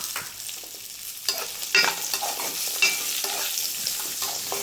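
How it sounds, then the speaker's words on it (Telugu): Raisins and fresh coconut fry in ghee, a continuous close sizzle with several light stirring scrapes and taps of a spoon in the pan. "కొన్ని ఎండుద్రాక్ష, పచ్చి కొబ్బరి. వీటిని మనం ఇప్పుడు ఫ్రై చేసుకుందాం"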